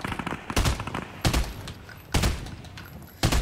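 Burst assault rifle fire in Fortnite Team Rumble, four loud bursts of rapid shots at roughly even intervals, each a tight cluster of cracks, with faint game ambience between them.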